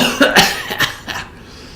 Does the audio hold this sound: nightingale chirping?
no